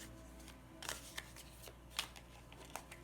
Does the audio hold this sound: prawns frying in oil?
no